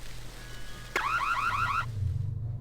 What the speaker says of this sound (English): The sound of the alarm had put me in jail.